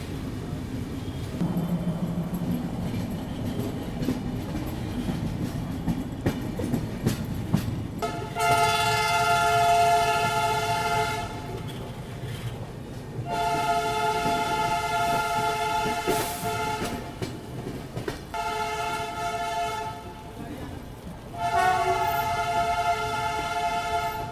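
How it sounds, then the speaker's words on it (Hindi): The Tirupati–Jammu Tawi Hamsafar Express pulls into Nagpur railway station, its steady rolling rumble broken by several long, loud horn blasts in separate bursts, with no talking. "बाकी अपना अराइवल हो रहा है नागपुर रेलवे स्टेशन पे"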